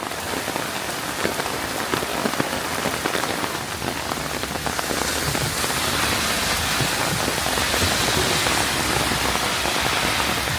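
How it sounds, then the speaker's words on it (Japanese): Heavy rain pouring in a botanical garden in Frankfurt, a dense, continuous hiss of drops striking surfaces and umbrellas that swells louder halfway through, close and steady with no voices. "大雨。 大雨。 やばい。 19日間いて初めての雨だね。"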